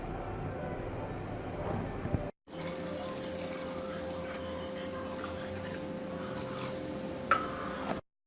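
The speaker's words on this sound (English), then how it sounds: "I'm gonna put 2 glasses of water in it." Water is poured from glasses into a pressure cooker, a steady close splashing and trickling stream that pauses briefly before a second, longer pour, ending with a few drips.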